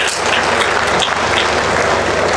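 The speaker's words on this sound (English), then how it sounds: "If you want to clap, please clap." Audience clapping at a fellowship conferment ceremony, a dense, steady wash of hands from a large crowd filling the whole stretch without pause.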